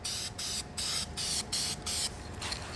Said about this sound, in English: with anything you spray paint, you want to do a light layer, another light layer